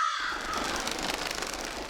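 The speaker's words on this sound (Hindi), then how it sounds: "कौवा बोला काओ काओ" A crow caws in a Hindi TV comedy scene, a harsh call that stands out clearly over a steady wash of background noise throughout the short clip.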